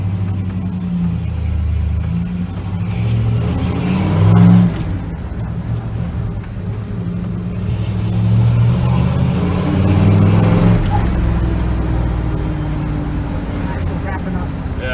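A Ford Flareside pickup with a carbureted 5.0 V8 swap pulls away from a green light in stop-and-go traffic, its engine rumbling and revving up from inside the cab, with voices talking over it.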